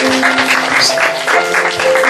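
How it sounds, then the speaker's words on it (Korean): A church congregation applauds during an afternoon worship service, a dense, steady wash of many hands clapping together, loud and close, with a faint tonal hum running underneath. "박수하겠습니다"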